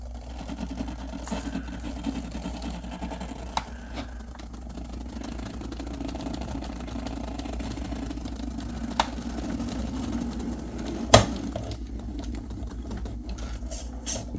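The brushless motor of a Vanquish H10 RC car running on 3S hums at a steady, even pitch, holding constant speed without throttle changes; faint, continuous whir with a few small clicks and one sharp tick.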